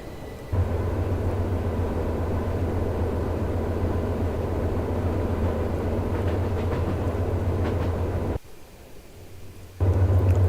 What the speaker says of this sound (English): eastbound grain empty, charging up the grade on the mountain sub